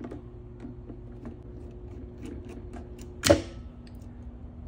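A single sharp electrical contactor click rings out as one phase is disconnected, standing out against a faint steady hum and light ticking in a quiet room.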